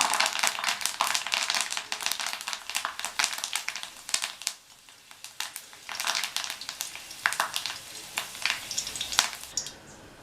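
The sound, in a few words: curry leaves sizzling in hot oil with fried snake gourd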